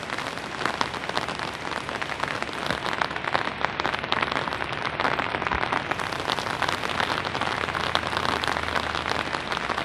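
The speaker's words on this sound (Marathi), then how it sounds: "जोरदार पाऊस." Heavy monsoon rain pouring over hills and rice fields in Konkan, a dense, loud and continuous hiss of drops striking surfaces with no voices.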